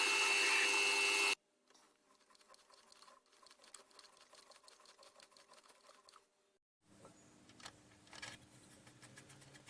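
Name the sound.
drilling and tapping flanges cut from flat stock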